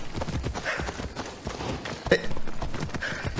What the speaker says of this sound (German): Ich will nochmal auf mein Pferd drauf springen.